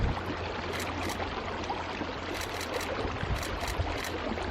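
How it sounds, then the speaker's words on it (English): A river in Iceland flows with a steady, dense rushing and babbling of water close by during an outdoor photo shoot, with no talk heard. "So we have the river"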